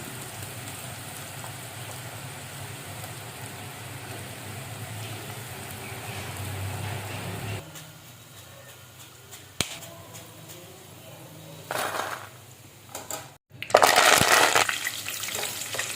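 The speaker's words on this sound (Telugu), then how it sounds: "రిమైనింగ్ పల్లీల్ని కూడా ఇదే ప్రాసెస్లో ఆయిల్లో మంచి కలర్ వచ్చే వరకు ఫ్రై చేసుకుందాం" Peanuts frying in hot oil for peanut pakodi, a steady crackling sizzle like rain for several seconds, then quieter with scattered clicks and bursts of scraping stirring toward the end.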